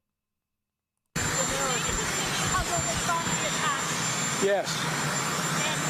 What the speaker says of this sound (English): they asked him a question while the helicopter was going